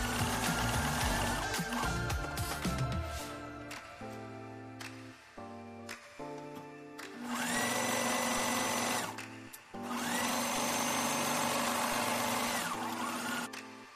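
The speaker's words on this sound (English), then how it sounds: "So I'm just going to stitch around the edge of the pocket here." A sewing machine runs a long basting stitch around the edge of a fabric bag pocket in two steady, sustained bursts of a few seconds each, heard close over background music.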